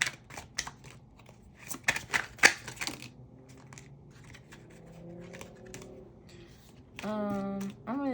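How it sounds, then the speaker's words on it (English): Tarot cards are shuffled by hand in quick irregular clicks and riffling snaps, heard close and fairly quiet, followed near the end by a short stretch of a person talking. "I'm gonna just keep shuffling."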